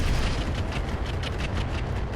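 Mech weapons firing on enemy units in the game RogueTech: a dense, loud, continuous roar of blasts and booms rolling together with no pause.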